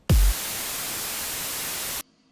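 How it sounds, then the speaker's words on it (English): White noise from the noise generator of an Operator synthesizer plays as one sustained, loud, even hiss for about two seconds. It starts with a brief low thump and then cuts off abruptly. "So now this is going to play white noise."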